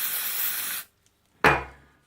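A short hissing burst of aerosol lubricant sprayed into the rear brake master cylinder of a Yamaha TDR motorcycle lasts under a second, then comes a pause and a sharp knock or clatter that fades out.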